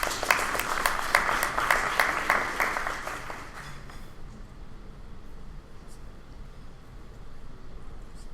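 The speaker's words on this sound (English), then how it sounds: "So please give a round of applause to Andrew." Crowd applause at a student energy conference fills the first few seconds, dense and steady, then fades out around the four-second mark, leaving low room noise.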